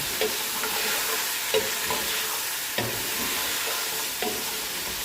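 Beef adobo with soy sauce stirred in a hot pan, a steady close sizzle broken by a few sharp scrapes of the utensil against the metal, with no voices.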